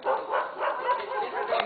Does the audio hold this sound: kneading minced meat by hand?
no